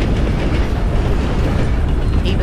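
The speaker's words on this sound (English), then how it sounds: "we actually are able to catch up to Marybeth's train" Train from Red Dead Redemption 2 rolling along at a fair speed, heard up close as a steady, dense low rumble of wheels on rails with no talk.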